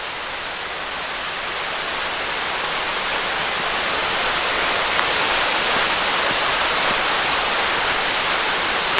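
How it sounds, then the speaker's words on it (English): A small waterfall at Jonathan Run in Ohiopyle State Park rushes in a steady broadband roar that grows slightly louder over the first seconds, then holds constant with no voices. "I think we have a waterfall down here."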